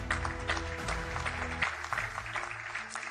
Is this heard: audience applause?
yes